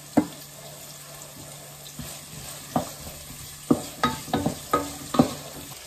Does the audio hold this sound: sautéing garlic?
yes